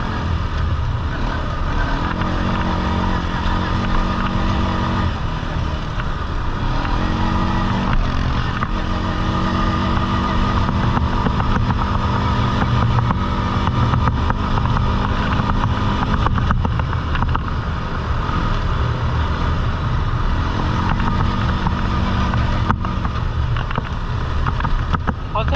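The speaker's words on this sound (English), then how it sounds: "these old Suzuki Agers are definitely underrated four-wheelers for sure" An old Suzuki four-wheeler ATV with stock gearing rides on big 29.5-inch Outlaw mud tires, its engine droning loudly and continuously throughout, with the pitch rising and falling as the throttle changes.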